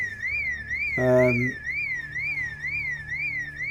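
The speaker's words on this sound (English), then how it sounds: "I think I've just set the alarm off, haven't I? Yes, I've set an alarm off." A car alarm blares in the Project Zomboid video game, a loud, steady warbling siren that rises and falls throughout, with a short burst of a voice partway through.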